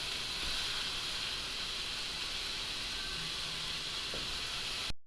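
Steady sizzling and crackling of sloppy joe meat frying in a hot pan, a continuous hiss that cuts off abruptly at the end.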